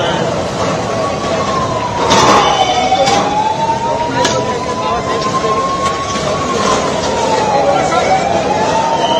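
An ambulance siren wails, rising and falling slowly over steady background noise and rumble, with a few sharp knocks along the way, at the Maha Kumbh 2025 gathering in Prayagraj after a stampede.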